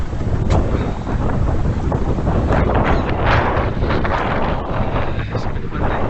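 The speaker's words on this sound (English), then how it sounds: "It's a bit windy today." Strong wind buffets the microphone on a mountain bike trail, a loud, constant rumbling roar with gusts throughout.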